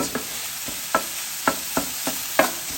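Meat and onions for a chopped cheese cook on a Blackstone 17-inch E-Series griddle. A steady sizzle runs under about six evenly spaced metal spatula scrapes and chops, with no one speaking.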